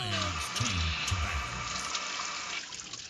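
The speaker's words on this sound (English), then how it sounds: "You guys hear the rushing waters?" Water rushes steadily in a broad, continuous hiss, loud and close, like a flush or a running tap. A brief voice is heard at the start.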